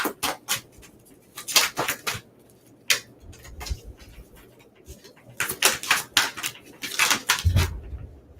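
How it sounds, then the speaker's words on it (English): Tarot cards riffled and shuffled in quick bursts of crisp flicking and slapping, close up, with brief pauses between rounds. "Let me shuffle again."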